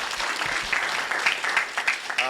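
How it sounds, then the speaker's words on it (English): Audience applause at a real estate top producer panel, a steady wash of clapping with a few sharper claps standing out, moderately loud and continuous. "Give that a round of applause"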